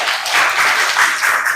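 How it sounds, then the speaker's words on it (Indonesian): A classroom of students claps together in a short, dense burst of applause, close and even throughout. "Ya, tepuk tangan untuk kita semua."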